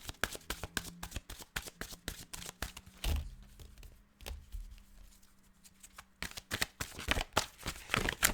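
Tarot cards are shuffled by hand in quick bursts of crisp riffling and slapping, pausing briefly midway before resuming, close and fairly quiet.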